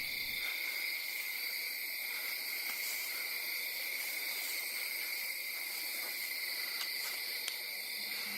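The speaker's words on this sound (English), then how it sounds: "Those are some loud ass crickets" Loud crickets chirping steadily in a forest at night beyond a barn, a dense continuous high trill throughout with no pauses.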